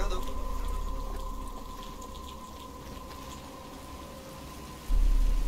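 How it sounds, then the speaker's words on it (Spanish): Rain beginning to fall in the video game Batman: Arkham Asylum, a steady broadband hiss of drops with a low rumble beneath, holding fairly even and then swelling louder near the end, with no voices over it. "está empezando a llover"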